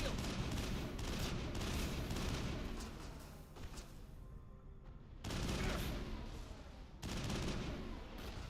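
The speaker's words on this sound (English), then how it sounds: "someone came behind me and shot me" Sustained gunfire and blasts from a sci-fi shooter video game, with rockets fired in the fight: a dense, loud wash of shots that dips briefly midway, then surges back, with no clear talking over it.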